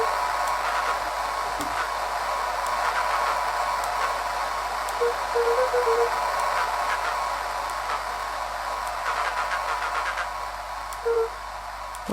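Walkie-talkie static from the Beacon Pines video game hisses loud and steady, broad noise throughout with brief garbled tonal blips like a faint voice breaking through the interference.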